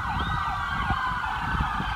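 Ambulance sirens wailing as ambulances leave Charlotte County after Hurricane Irma, loud and close, high tones sweeping up and down over rumbling traffic.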